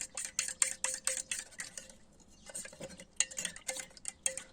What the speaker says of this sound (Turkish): Evet boyamızı güzelce karıştıracağız.